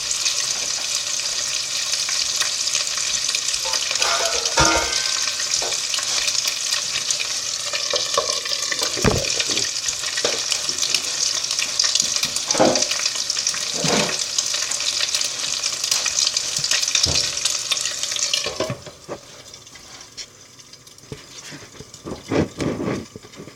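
A vegetable omelette pie cooking under a lid in a pan gives a steady, close sizzle with occasional clatters and knocks, then drops to a quieter hiss with scattered small sounds.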